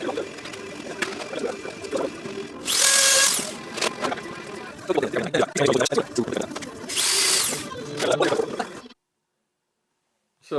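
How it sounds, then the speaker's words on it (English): A power drill drives screws into wood in two loud whining bursts, with quieter tool sounds and clatter around them, then the noise cuts off abruptly. "Let's drill and screw a couple of these things."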